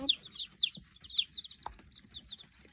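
Chickens cluck and peep in short, high bursts, fairly close, with a few soft rustles in between.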